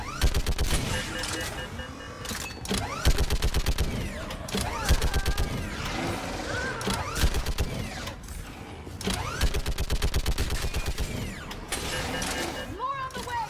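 A mounted gun in Mass Effect 3 hammers out repeated bursts of rapid fire, loud and close, with mechanical creaks and clanks between the volleys over a busy battle din.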